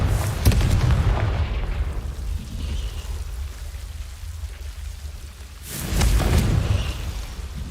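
Spell blasts from the Confringo fire spell in the Hogwarts Legacy video game, with two loud booming bursts about five seconds apart. Each is a sharp crack that rolls into a rumbling tail over a steady low background.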